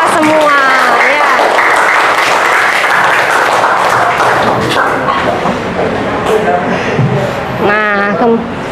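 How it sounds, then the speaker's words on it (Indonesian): Students in a classroom break into applause, a dense burst of many hands clapping together, loud and close, while children's voices chatter and shout over it. "Tepuk tangan dulu untuk kita semua"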